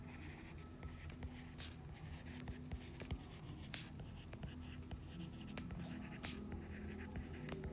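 Pen strokes scratching on paper as a math word problem is written out, soft irregular scribbles and taps continuing steadily and faintly up close.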